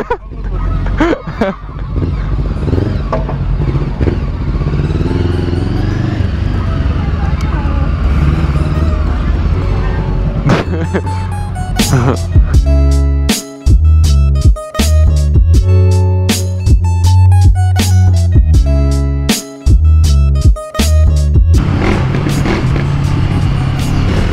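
A Suzuki GSX-R 1000 sports motorcycle engine, first a rough steady running note, then loud, sharp revving and popping bursts with abrupt cuts, close up; people talk over it.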